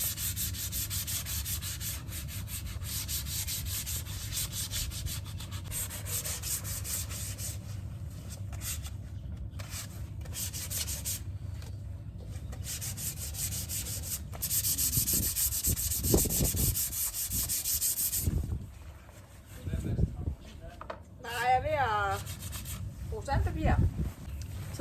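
Painted MDF is sanded smooth by hand with steady, close rubbing strokes. The sanding stops near the end, and someone starts talking.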